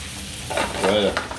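Peppered rump steak searing on its sides in a hot pan, a loud steady sizzle that flares briefly as the meat is shifted, with no talking.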